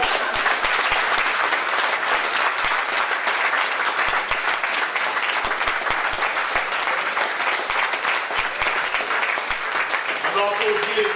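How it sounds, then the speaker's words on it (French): Congregation applause at a special family celebration church service, loud continuous clapping from many hands that holds evenly throughout, with voices in the mix. "On applaudit les seigneurs"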